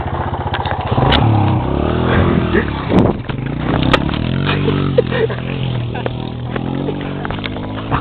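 A dirt bike engine revs loudly up close for a jump, its buzzing drone rising and falling with clattering bursts, while excited voices shout over it.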